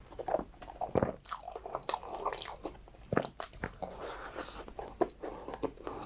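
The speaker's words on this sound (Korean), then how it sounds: "분명 녀석이 빵을 씹는 소리예요." Close, moist chewing with repeated soft crunches and bites in an uneven rhythm, no talking.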